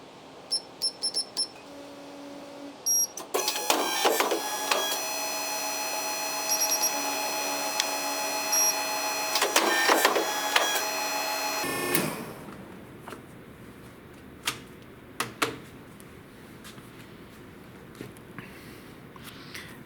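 A paper cutter slices through stacks of notepads with chipboard backing, a loud sustained mechanical whir with tonal hum that runs several seconds, then stops, followed by quieter handling clicks and taps.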